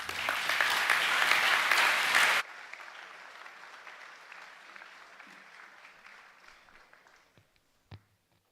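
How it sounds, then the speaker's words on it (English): A school audience at a senior academic awards assembly applauds a band, a loud dense burst of clapping for about two seconds that cuts off sharply, leaving a low murmuring room hum and a single faint knock near the end. "Let's give them a big round of applause"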